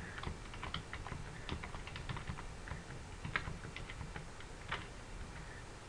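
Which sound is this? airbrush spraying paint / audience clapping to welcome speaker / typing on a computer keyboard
typing on a computer keyboard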